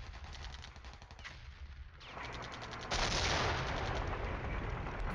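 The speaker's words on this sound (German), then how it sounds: "Ja, unsere Artillerie setzt ein, aber zu spät." Artillery fire in the wargame Flashpoint Campaigns, heard as a dense, continuous barrage of rapid crackling bursts that grows louder and fuller partway through.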